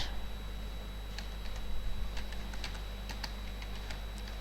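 Keys clatter on a computer keyboard in a run of light, irregular taps as text is entered, fairly close against a steady hum, with no talking.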